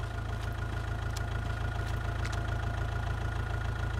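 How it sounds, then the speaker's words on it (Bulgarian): Tractor engines idling in the video game Within The Unknown, a steady low chugging hum that runs unchanged throughout, close and even. "Някакви тук трактори."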